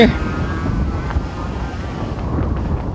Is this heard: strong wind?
yes